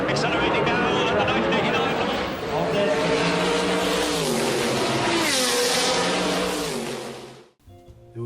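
Group C race cars accelerate hard down the track as the pace car pulls off, a loud, dense roar of engines rising in pitch and sweeping past, fading out abruptly near the end.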